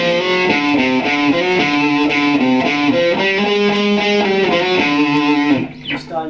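An electric guitar with slight distortion plays a run of scale notes that include the flat fifth, steady single notes at an even pace, close and clear, ending in a short scrape as the playing stops.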